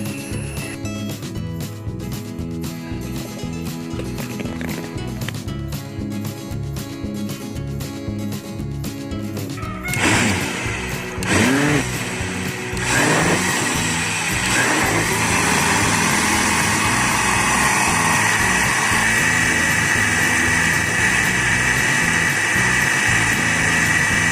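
A mixer blends carrot juice with milk in a kitchen, its motor starting with rough pulses and rattles, then settling into a loud, steady, close whirring drone.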